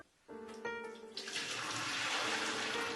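Water from a bucket pours into a cleared drain, a splashy gurgling gush that starts abruptly and keeps rushing steadily and close, with a few clanks at the outset.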